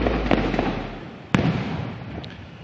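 Fireworks display bursting during a ceremony at Malacanang Palace: a few sharp booms and crackles, one loud burst standing out, over a continuous rumbling background.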